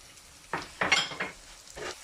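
Two onions frying in oil in a tajine over the heat, with sizzling bursts and a few stirring scrapes and utensil clinks against the pot, fairly close and without talk.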